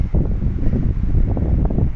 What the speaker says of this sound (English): now the whole terrain would be super windy